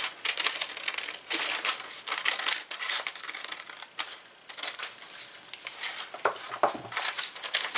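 Scissors snipping around a printed paper image, a continuous close crackle of cutting and paper rustle with brief pauses, loud and without speech.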